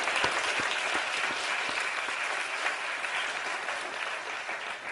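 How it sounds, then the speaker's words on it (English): An evening forum audience applauds a distinguished panel after a discussion on environmental toxics and breast cancer, with sustained, even clapping and a few sharper individual claps standing out near the front. "how about another round of applause for our distinguished panel this evening?"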